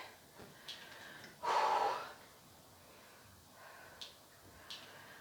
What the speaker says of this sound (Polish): Oddychamy.